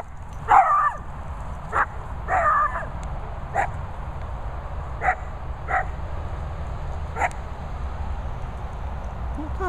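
A few scattered barks and yips from a Bichon and Dachshunds, moderately distant, over a steady low rumble of background noise.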